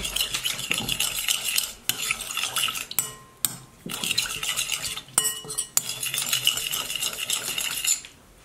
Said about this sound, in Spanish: Y lo vamos a revolver.